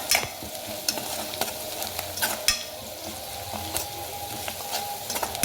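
Red chilli masala being stir-fried in a pan for spring onion pithla, a dense continuous sizzle with repeated spoon scrapes and taps against the pan, close and fairly loud.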